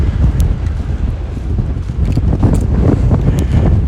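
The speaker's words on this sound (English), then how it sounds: "there's the wind again coming around the tall building" Wind gusting around a tall building on Victoria Avenue in downtown Regina during a March walk, a steady low rumbling buffet against the microphone that swells and eases throughout, with no voices.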